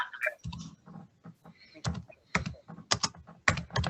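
Keys clack on a computer keyboard in short irregular bursts of quick taps, fairly quiet and close, with pauses between runs of typing.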